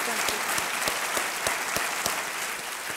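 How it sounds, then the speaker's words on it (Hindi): Studio audience on the Kaun Banega Crorepati quiz show set applauds, a loud, steady roar of clapping with a few sharper claps punching through at a fairly regular pace. "एक बार फिर तालियों के साथ आपका स्वागत करते हैं मधु जी"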